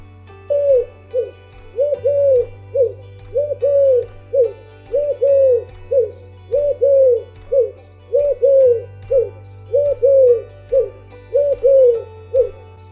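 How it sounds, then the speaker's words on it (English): An owl hoots over and over in a steady rhythm of short paired calls, clear and close, above a soft, constant low drone. "Owl."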